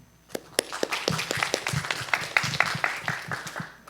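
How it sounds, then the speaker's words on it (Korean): Audience at a 2025 liberal-arts curriculum reform public hearing gives light, scattered applause as a speaker is welcomed; individual claps stay distinct and fairly sparse, with no talking over them. "큰 박수로 맞이해 주시기 바랍니다."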